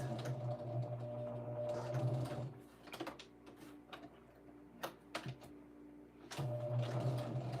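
Sewing machine back stitching on a four-patch quilt block, running in short quiet bursts of rapid stitching, pausing with small clicks and taps in between before starting again.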